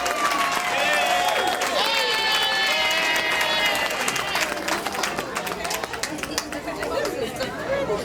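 A lively audience at an honoring event applauds for Miss Williams, with clapping and cheers mixed into loud crowd chatter and whoops, and voices carry over it throughout.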